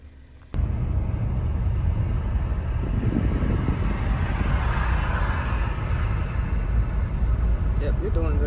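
A car driving on the road, with a steady engine and tire rumble that starts abruptly and continues throughout, while people talk inside the cabin.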